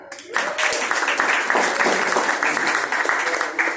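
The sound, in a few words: applause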